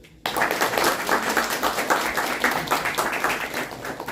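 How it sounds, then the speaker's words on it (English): Applause breaks out abruptly after a short quiet moment and continues as lively, fairly close clapping from a small audience at a spiritual talk, with individual claps audible within the steady flow. "we will give a round of applause to all of you"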